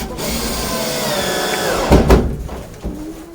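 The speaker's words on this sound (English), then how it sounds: "So if I drill out those deep holes" A power drill bores holes into a log, its motor whirring steadily with a rising whine. Two loud, rough bursts of cutting come in quick succession, followed by a softer one.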